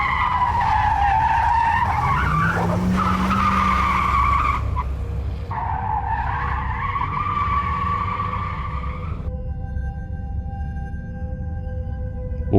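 Tires skid and squeal loudly during a city car chase involving a speeding truck, with a rising screech and engine roar near and close, followed by a crash that gives way to a steady electronic tone.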